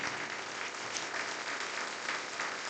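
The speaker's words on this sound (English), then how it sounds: "give our panelists one more round of applause" Steady applause from a colloquium audience for a panel, dense and even throughout, without any voices rising above the clapping.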